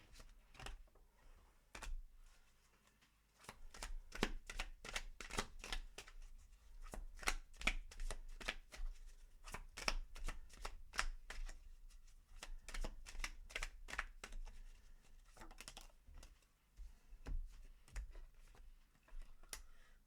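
Tarot cards being shuffled close up, with quiet rapid riffling bursts and soft slaps repeating irregularly over a faint background, no voices.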